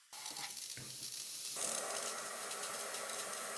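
A DeLonghi Magnifica S espresso machine steam wand hisses on abruptly and roars steadily, turning rougher and louder partway through as milk is steamed.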